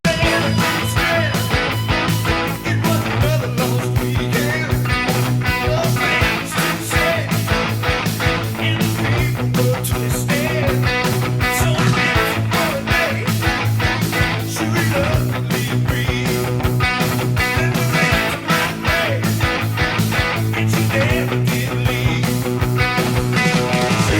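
A loud, driving distorted electric guitar riff from the verse of a song repeats over a steady rhythm, with full band-like density and no talking.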